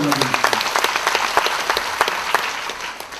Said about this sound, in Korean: 박수를 맞이해주십니다.